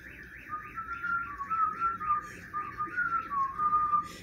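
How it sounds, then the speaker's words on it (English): Someone whistles a lilting tune alone, the clear notes bobbing in a steady, wavering rhythm at moderate volume. "I'm just going to whistle."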